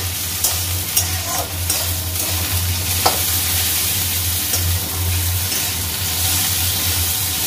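Chopped tomatoes frying in a hot pan give a loud, steady close sizzle, broken by a few spoon knocks and scrapes as they are stirred, with no talking.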